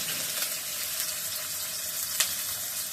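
Garlic, onion and green chillies frying in oil in a pan, a steady close hiss and sizzle with a few small pops, with no talking.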